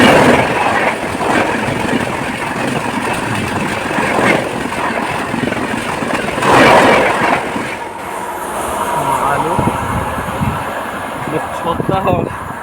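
A train rumbles past on railway tracks close by at night, a loud, sustained clatter of wagons rolling over rails with people talking over it.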